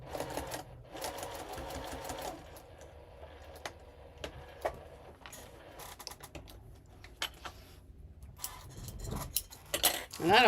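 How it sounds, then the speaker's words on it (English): Sewing machine stitching across a marked line on fabric, with bursts of rapid mechanical whirring and ticking, some clicks and handling noises in between, and a person talking quietly at times. "And then I'll flip it up and sew across that line right there."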